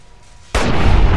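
A single loud gunshot in Fallout: New Vegas, fired at an enemy's head, bursts in sharply after a quiet lead-in and rings on with a dense, sustained blast tail.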